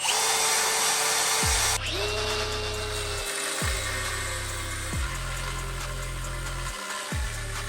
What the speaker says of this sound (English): I'm basically gonna cut these welds off right here